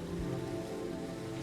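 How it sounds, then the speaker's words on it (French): Gentle rain falls in a steady, even hiss with a soft patter, sounding close and continuous without any talk. "Soudain, une douce pluie commence à tomber"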